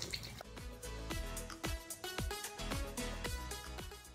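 Water dripping and splashing in quick irregular drops while a Playmobil figure's trousers are washed, close and fairly quiet, with a faint trickle under the drops.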